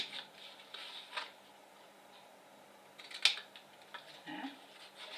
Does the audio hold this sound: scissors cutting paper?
yes